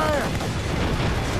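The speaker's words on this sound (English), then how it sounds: "Ready those mortars, Shay. Fire!" Ship mortar fire during a naval battle in Assassin's Creed Rogue: a dense, loud rumble of booming shots and crashing impacts filling the whole moment, with faint voices under the din.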